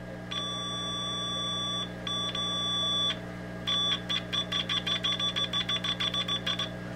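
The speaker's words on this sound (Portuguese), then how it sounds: "O multímetro apresenta um bip." A multimeter gives a continuity beep as its two probes are touched together: a steady electronic tone held for about a second and a half, repeated, then a rapid run of short pulsing beeps, close and clear.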